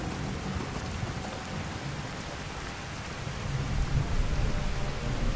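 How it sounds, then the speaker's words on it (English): Heavy pouring rain with rolling thunder in the video game Skyrim, a dense steady hiss of rainfall with a deep rumble that swells toward the end. "Yeah, it's pouring rain."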